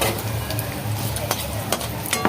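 Bay leaves and dried red chillies hit hot oil with sugar in it, ahead of a mutton curry, giving a close, steady sizzle. Clinks and scrapes of a spoon stirring against the pot punctuate it.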